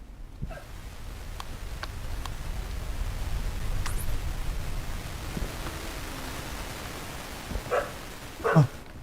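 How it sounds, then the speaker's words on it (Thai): A dog barks in the horror game Something In The Well, a few sharp yelps scattered through a steady hiss of background noise, with the louder barks near the end. "หมามันเห่าอะไรบางอย่างฮะ"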